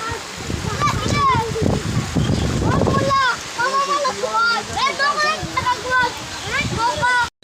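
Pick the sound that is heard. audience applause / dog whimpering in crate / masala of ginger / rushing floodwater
rushing floodwater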